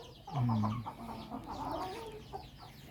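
Fighting cocks clucking in a backyard breeding pen, with one loud low cluck near the start followed by softer, scattered clucks and calls from nearby birds.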